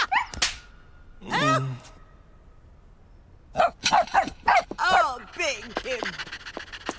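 A cartoon dog barks in the Mr Bean animated series, with several sharp yaps and a longer whining bark in between, close and clear with some quiet rustling underneath.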